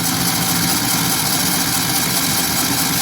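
A 1976 Ford 250 straight six engine runs with a steady, loud, continuous drone, close up and without a break.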